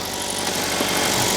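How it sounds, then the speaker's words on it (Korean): A Kia Soul's engine idles steadily just after starting, a smooth, even mechanical hum with a faint rattle, heard close and alone without talk. "참고로 원래 소울 엔진 이렇습니다."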